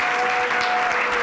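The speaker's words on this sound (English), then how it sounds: "Can we just have one more round of applause for our wonderful panelists?" Dense round of applause from a panel audience, loud and continuous throughout the short stretch.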